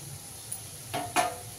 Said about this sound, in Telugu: ఇంకోసారి ఫ్రై కానిద్దాం